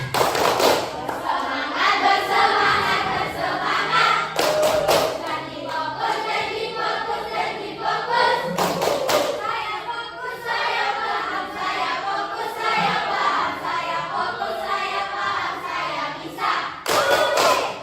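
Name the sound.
group clapping a rhythmic cheer clap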